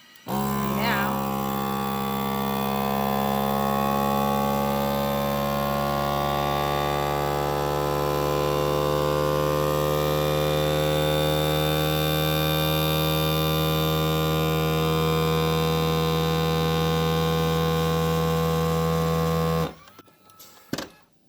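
A vacuum sealer machine, set to its accessory mode, runs steadily while sealing marshmallows, giving off a loud, continuous motor hum with a constant tone. It stops abruptly near the end.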